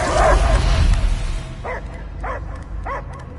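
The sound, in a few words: dog barking in video game Marvel's Guardians of the Galaxy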